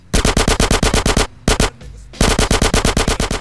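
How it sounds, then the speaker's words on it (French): Rapid submachine gun bursts in the video game GTA San Andreas, loud and close, firing in long rhythmic volleys with a brief pause in the middle before the shooting resumes. "On aura drôlement augmenté notre habileté mitraillette en tout cas"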